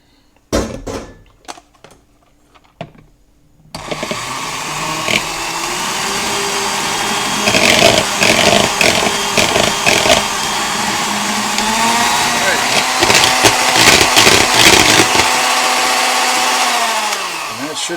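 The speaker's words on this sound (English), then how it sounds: "now you're going to whisk the egg whites" Electric mixer whisking egg whites to stiff peaks for a marshmallow pudding, a steady loud whirring drone that starts after a few seconds of quiet kitchen sounds and clatter, running continuously with faint voices underneath.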